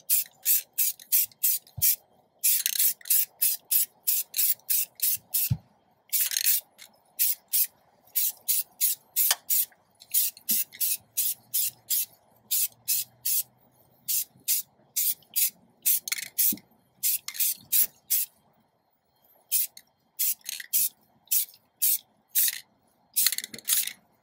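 A rattle can sprays satin black paint onto a wheel in many short hissing bursts at a quick rhythm, close and clear, with brief gaps between passes.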